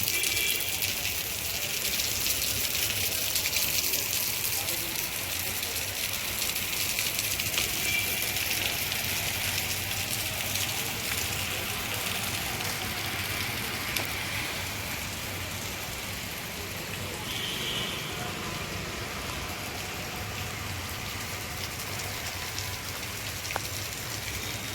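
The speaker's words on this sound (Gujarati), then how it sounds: "વરસાદ પડે છે જોરદાર." Heavy rain falls in Junagadh, making a steady, broad hiss of drops on surfaces. It is moderately faint and unbroken, with no distinct voices.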